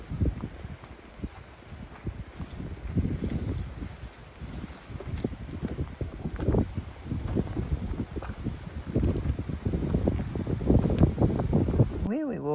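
Wind buffets the microphone in gusty, uneven rushes at a lunch stop on a camel trek through dry, rocky country, with faint background sounds beneath.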